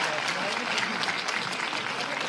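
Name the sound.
audience applauding a minister at a school event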